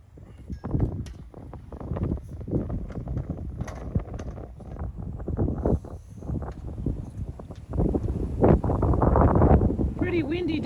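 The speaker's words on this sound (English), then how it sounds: "pretty windy day to be doing that." Gusty wind buffets the microphone on a blustery day while people put up brackets for rooftop solar panels, rising and falling in bursts with clatter and handling noise, under nearby talk.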